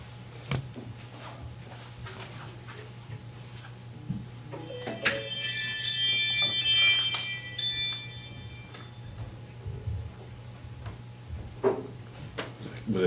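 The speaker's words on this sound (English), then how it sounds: "Hearing bells." Faint bell tones ring out briefly over a steady low hum during a county commission meeting, with scattered clicks and taps around them.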